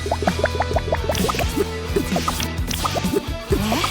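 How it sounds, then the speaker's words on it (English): Water drips rapidly from a leak in a cartoon-style video game, a busy stream of bright plinking droplets falling continuously and close by, with no voices. "Uh-oh, we gotta plug up that leak."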